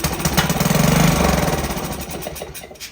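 A Troy-Bilt Horse tiller's small engine, a barn find run on choke, sputters to life for about a second, a rough loud burst of firing, then quickly dies back down.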